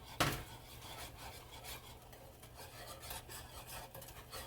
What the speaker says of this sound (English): And just continue to stir it until it thickens up.